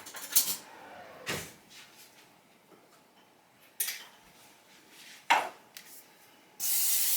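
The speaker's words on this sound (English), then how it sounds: "Just spraying some Pam on the back, just to be able to move that batter around" Short hissing bursts of Pam cooking spray onto the back of a spoon come in several separate puffs, close by, followed by a longer continuous spray at the end.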